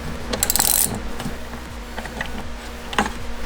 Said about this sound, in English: this is a T55 Torx bit that we use to take this bolt off